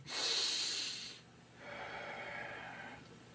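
Slow, deep breaths drawn in and let out, close and fairly quiet, with a long airy inhale followed by a softer, steadier exhale and no talking.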